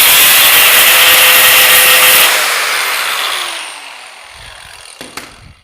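Angle grinder taking tack welds off a metal weld table, a loud harsh grinding rush for about two seconds, then the tool spins down with a fading whine and a few faint knocks.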